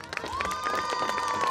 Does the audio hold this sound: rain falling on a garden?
no